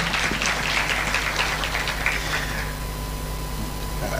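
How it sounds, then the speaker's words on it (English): Clapping from an audience at an education awards ceremony, a dense, moderately loud patter that gradually thins and fades away over a low steady hum, with no one talking. "Another round of applause"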